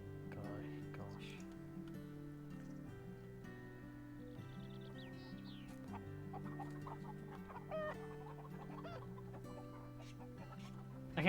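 Chickens cluck in short scattered bursts over steady layered background music in the farming game Farm Manager 2018, the birds fairly faint beneath the score.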